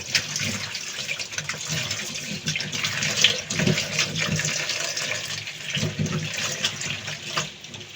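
Tap water runs in a steady, close stream while Malabar spinach leaves are rinsed clean for cooking, with a few slight surges in the flow and no voices.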